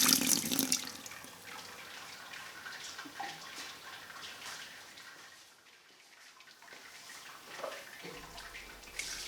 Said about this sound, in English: So I just sparge 1 litre at a time and use the Grainfather sparge tracker just to keep progress.